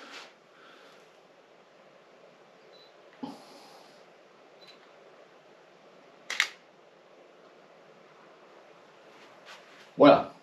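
A camera shutter fired by remote control clicks once sharply near the end, after a couple of softer clicks and faint rustling in a quiet room.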